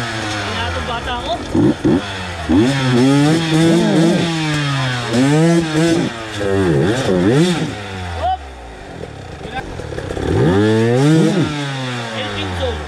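A motorcycle engine revs again and again, its pitch climbing and dropping in loud, close bursts with brief pauses between.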